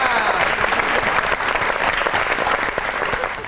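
Dense, steady audience applause welcomes a singer onto a comedy talk show stage, filling the whole stretch evenly without any voices on top.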